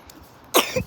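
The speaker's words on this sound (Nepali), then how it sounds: "यसलाई के को खोकी लायो फेरि बिहान बिहान।" A child gives one short, close cough in the morning, coming suddenly after a quiet stretch.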